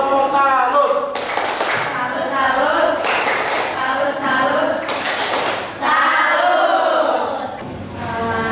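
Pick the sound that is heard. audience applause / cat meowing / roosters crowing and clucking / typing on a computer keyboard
audience applause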